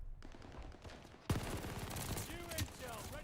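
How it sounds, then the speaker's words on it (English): Rapid, dense MG42 machine gun fire in Call of Duty Vanguard multiplayer, a continuous loud stream of shots that grows heavier midway, with other battle sounds around it. "Why does this have no recoil? It's a freaking MG42."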